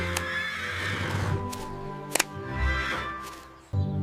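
A Clydesdale horse in a children's cartoon lets out a long, wavering neigh, clear and close with no talking, followed by a couple of soft thumps and a low snort.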